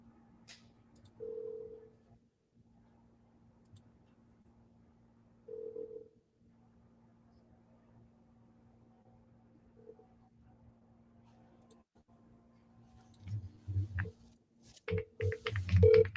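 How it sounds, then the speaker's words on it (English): An outgoing phone call rings back with short, faint, evenly spaced tones over a steady low hum, with long gaps between rings, and clicks and handling noise toward the end. "Dylan, can you hear the ringing?"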